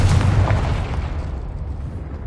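A Confringo spell blast in Hogwarts Legacy, a single loud booming explosion with a deep rumble that slowly decays over about two seconds.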